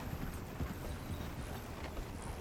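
Horse hooves clip-clop in Red Dead Redemption 2, a steady run of hoofbeats that stays fairly even and soft, with no speech.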